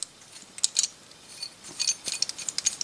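A folding hoist with a screw shaft and drop hooks is wound back into position, giving close, irregular metallic ratcheting clicks and gear ticks that quicken toward the end.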